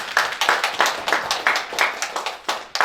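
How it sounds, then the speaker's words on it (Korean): A church congregation claps together in a brisk, even rhythm for about three seconds, close and moderately loud, with no talking over it. "우리 뜨거운 찬양을 받아주신 우리 하나님께 박수로 영광을 드립니다."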